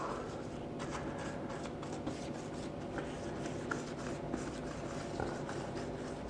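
Paintbrush painting grout lines on kitchen tiles, a soft continuous scratchy brushing with faint irregular strokes, close and quiet with no talk.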